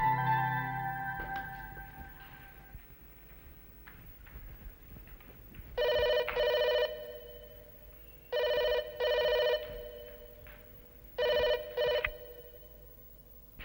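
A telephone rings in three separate double-burst rings spaced a few seconds apart, loud and clear with no talk over them, after a quieter musical opening in a Hindi TV drama scene.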